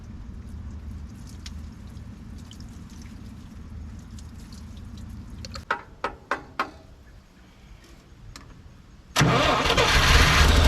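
A 1958 Lull cherry picker, revived after sitting 15 years, idles with a low rough engine rumble, then cuts out, followed by a few sharp clanks and a quiet pause before the starter and engine roar back up loudly.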